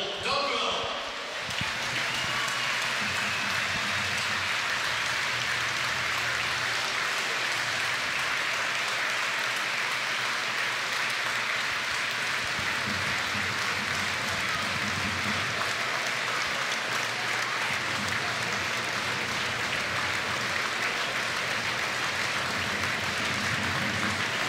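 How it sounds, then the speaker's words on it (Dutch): Sustained stadium applause from a large football crowd before a Jupiler Pro League match, a broad steady wash of clapping holding throughout with no one speaking. "En ook daar wordt er een applaus voor gebracht."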